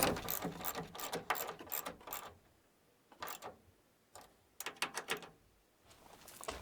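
A hand ratchet snugs taillight screws on a 2011-2016 Ford Super Duty pickup, working in quick bursts of clicking strokes separated by short pauses, close and fairly quiet.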